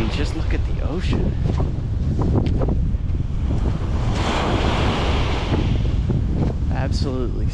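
Steady wash of ocean surf along the Cape Cod shore, broad and continuous with wind buffeting the microphone and a few brief voices in the background.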